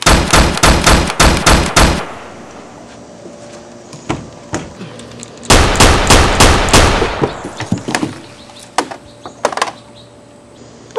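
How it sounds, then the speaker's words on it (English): Rapid bursts of loud gunshots from a handgun, a fast volley, a pause with scattered clicks and knocks, then another volley trailing into a few scattered shots, no talking. "Shot him like 6 times."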